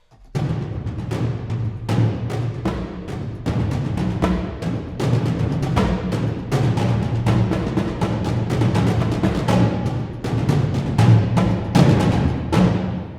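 Percussion hits from a music composition software instrument, played with ambient and all microphones on, crashing rapidly and continuously across the keyboard in a dense, roomy, loud barrage with no talking.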